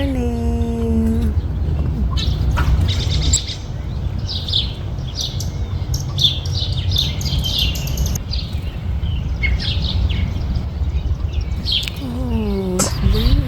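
Wild birds chirp and tweet repeatedly outdoors as parent birds bring food to their babies at a nest, bright scattered calls over a steady low rumble of background noise, with a few brief whistle-like voice sounds near the start and end.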